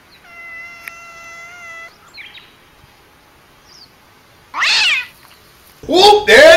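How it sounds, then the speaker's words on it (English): A cat gives a sharp, loud meow partway through, following a steady electronic tone, with a short burst of human speech at the end. "now that meow is the cat's way of talking shit."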